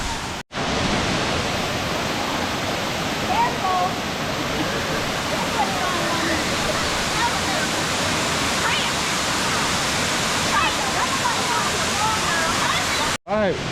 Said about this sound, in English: finally made it to the second waterfall. Wow, this one is huge.